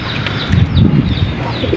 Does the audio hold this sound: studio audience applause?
no